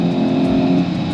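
A JB4-tuned VW MK8 GTI pulls hard down a drag strip during a bracket race, its engine droning loud and steady at close range with a rough, throaty roar and no voices.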